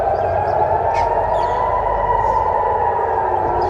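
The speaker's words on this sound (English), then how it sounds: "Air raid sirens sounded across Israel as Iranian missiles were intercepted overhead." Air raid sirens sounding across Israel during Iranian missile attacks, a steady sustained wail that holds a constant pitch throughout, fairly loud and continuous, with faint higher tones drifting over it.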